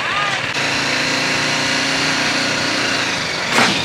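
A BMW motorcycle engine at a Berlin motorcycle show idles and revs under light throttle, with a steady buzzing drone and a brief rise near the end, close by, while voices talk nearby.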